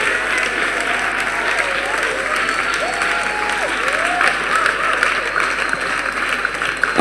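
A church congregation claps together in a large hall, a dense, sustained wash of applause that holds steady throughout, with faint voices rising in the background.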